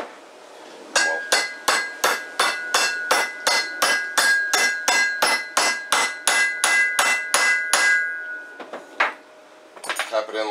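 Steel hammer taps a U-joint into place on a loose bench vise during a 1989 Chevy K5 Blazer repair, about twenty sharp metallic strikes at a steady, rapid rhythm with ringing tails, then a few softer clanks.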